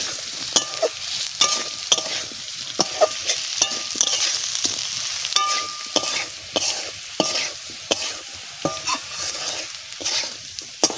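Spice powder stir-fried in a pan for a vegetarian dish, a dense hissing sizzle punctuated by quick regular scrapes and taps of a spatula against the metal, close and busy.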